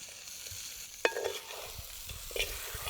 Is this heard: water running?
no